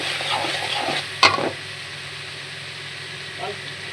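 Shrimp frying in a pan with onion and garlic among village-style vegetables, a steady sizzle with a sharp clatter of stirring near the middle and another light stir toward the end.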